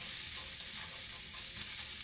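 Pearl onions sizzling in a warm frying pan, a dense, even hiss that holds steady throughout at moderate loudness, with no talk.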